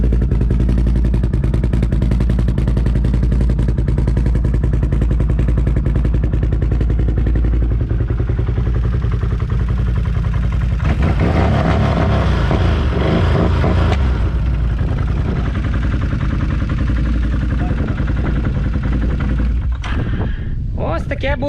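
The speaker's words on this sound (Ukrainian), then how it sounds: "Який сочний вихлоп" A BRP Can-Am Outlander 800 ATV runs with a deep, throaty exhaust rumble that holds steady throughout, with rattling clatter midway and a brief burst near the end, while people talk over it.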